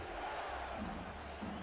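A football stadium crowd in a sports video game roars in a dense, steady wash of cheering and shouting, loud and continuous throughout the short stretch with no clear individual voices.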